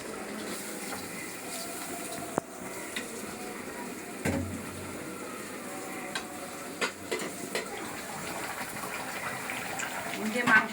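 Pilau rice frying in a pan alongside cooking beef, a steady low sizzle with occasional stirring scrapes running throughout while people talk nearby.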